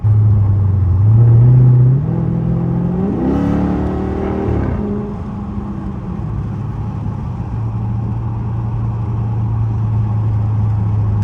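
480 hp Dodge Charger SRT8 V8 engine during spirited driving, a loud close rumble that swells as revs climb through a gear, drops back and settles into a steady deep drone.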